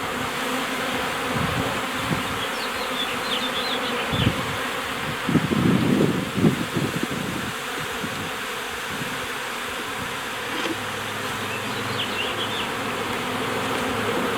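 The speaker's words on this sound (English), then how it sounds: "they're very gentle Italian honeybees, and like one of my favorite hives." Gentle Italian honeybees buzz in a hive, a dense continuous hum close by, with individual bees droning louder as they pass near and a steady swarm murmur underneath.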